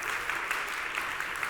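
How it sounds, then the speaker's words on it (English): An audience at a tech conference talk applauds, a dense, steady wash of many hands clapping at fairly high volume, heard alone for a brief moment. "Ooh, yeah, round of applause."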